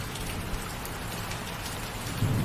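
A steady rain falls on pavement, a close, continuous hiss of dense drops with a faint low rumble rising at the very end.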